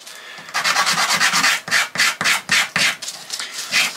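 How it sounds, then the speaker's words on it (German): Beech wood edge, cut with a saw, being sanded by hand on sandpaper in a run of quick rasping back-and-forth rubbing strokes, close and fairly loud, with no voices. "schleifen mit dem Schleifpapier hier die Sägekante ein bisschen weg"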